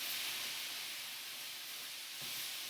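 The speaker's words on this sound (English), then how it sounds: "Lots of steam come out of that, which is great." Steam hissing from a stir fry cooking in a wok with mushrooms, a steady, faint, broadband hiss that holds evenly throughout with no voices.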